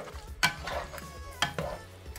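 A spoon stirring ground beef with diced tomatoes in a pan, a couple of quiet scraping strokes over a faint sizzle, close up with no talking.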